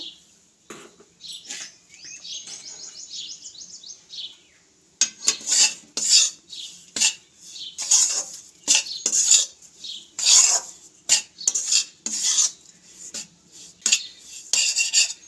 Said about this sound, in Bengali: চিনি গুঁড়োটা দিয়ে নাড়াচাড়া করতে থাকবো